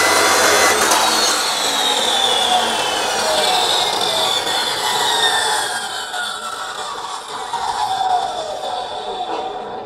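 Hasston cut-off machine (Art. 3085-003) cutting through metal, a loud sustained abrasive whine with the motor pitch sagging under load, then easing near the end.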